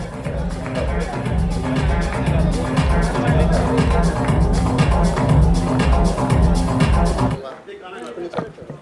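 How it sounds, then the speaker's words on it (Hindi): Loud, dense audience applause at the Hindustan Ratna Award ceremony, a continuous roar of many hands clapping that cuts off abruptly near the end, leaving a quieter room. "जोरदार तालियां हो जाए दोस्तों"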